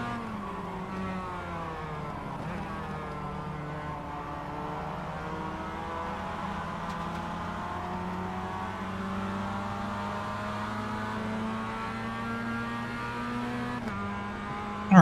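Race car engine in the iRacing sim, a steady sustained drone with rising and falling harmonic pitch as the car overtakes, loud and continuous throughout with no talk.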